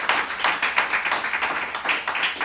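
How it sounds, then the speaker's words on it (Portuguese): A church congregation claps along in a steady, rhythmic pattern of roughly even beats, moderately loud and close, with little talk over it. "Então aplauda o Senhor com o seu melhor."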